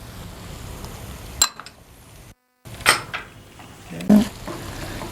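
A utensil clanks and scrapes against a pan as garlic and chili are sautéed for spaghetti aglio e olio, a few sharp metallic knocks separated by quiet stretches with faint sizzling beneath.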